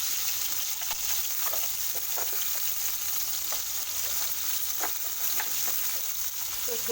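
Potatoes fry in oil for khichuri, producing a loud, even, continuous sizzle with scattered small pops and crackles throughout.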